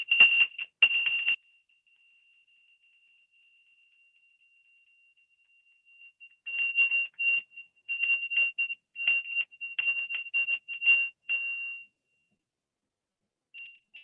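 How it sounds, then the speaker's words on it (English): A mindfulness bell used with young children gives a thin, high ringing tone: an opening burst of strikes, a long hush with the tone lingering faintly, then a run of repeated rings and a last faint chime. "I teach them listen to a bell as long as you can."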